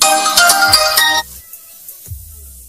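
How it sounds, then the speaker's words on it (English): An incoming call on a virtual SIM phone number rings loudly for about a second with a bright melodic ringtone, then cuts off, leaving near silence and a faint low thump. "you are going to receive a call in your virtual SIM account"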